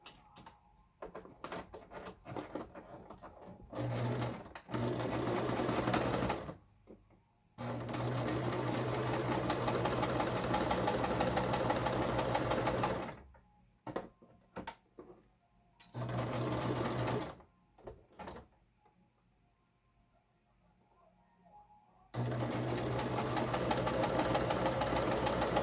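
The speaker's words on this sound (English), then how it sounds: "Then you're going to sew along the edges" A sewing machine stitching along the edges of three layered face-mask fabrics, running in several loud bursts of steady whirring separated by pauses with small handling clicks.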